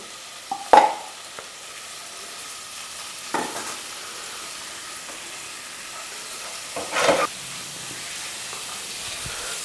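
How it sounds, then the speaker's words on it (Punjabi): Cauliflower shallow-fries in oil in a pot with a steady, broad hiss, broken by three dull clunks as the pieces are moved about. "ਹੁਣ ਆਪਾਂ ਸਾਰੀ ਗੋਭੀ ਇਹਦੇ ਵਿੱਚ ਪਾ ਕੇ ਥੋੜਾ ਜਿਹਾ ਸ਼ੈਲੋ ਫਰਾਈ ਕਰਾਂਗੇ"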